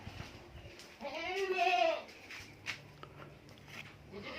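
A sick goat with a cough and cold gives a single clear, fairly loud bleat lasting about a second, then faint background shuffling follows.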